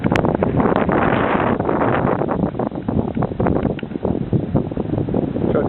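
Hurricane wind gusts pound the microphone in a loud, continuous roaring rush that swells and buffets throughout, with rustling and rattling debris mixed in and no voices.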